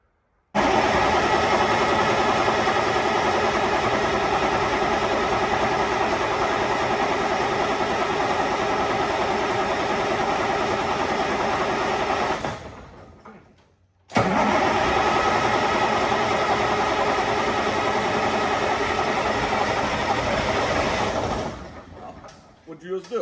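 A Caterpillar 3406B diesel engine in a 1986 Ford LTL 9000 idles with a loud, steady rumble, cuts out briefly, then starts again and runs on before dying down.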